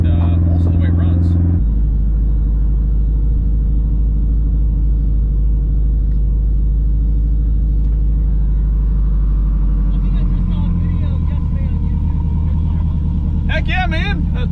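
An 800 hp Subaru STI engine with a custom 4-inch aluminum exhaust from the downpipe back rumbles loudly and steadily nearby, mostly at idle, with a brief rise near the end while people talk over it.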